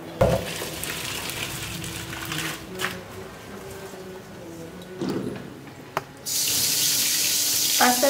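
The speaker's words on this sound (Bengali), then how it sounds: "পাস্তার উপরে আমি একটু ঠান্ডা জল দিয়ে দিচ্ছি।" Cold tap water runs over boiled spaghetti in a kitchen sink, a steady close splashing stream with brief pauses before it gushes louder and fuller near the end, with no talking.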